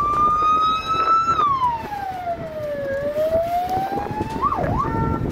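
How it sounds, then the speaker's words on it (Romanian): Fire engine siren wailing loudly as the vehicle passes, a long rising and falling tone with a quick yelp near the end, over road traffic noise. "Au fost trimise autospeciale de stingere din București"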